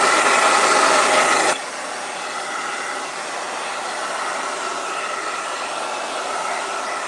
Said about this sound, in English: if you've got your blow dryer, go ahead and